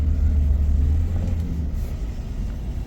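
Low, steady engine rumble from a Mercedes 300E W124 sedan driving slow laps around a shop lot on its first drive after nine years sitting, a deep continuous drone with no talk.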